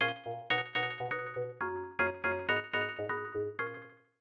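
A bell-like synth layer from Ableton Sounds, standing in for a clavinet in an organic house track, plays a bright plucked melodic phrase of short, clearly separated notes, each decaying quickly, alone and fairly soft.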